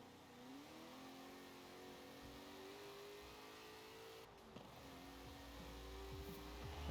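A Buick GSX in the Forza Horizon 4 racing game revs steadily through the gears, with a mid-pitched engine drone that climbs, dips briefly at a shift, then builds again toward the end.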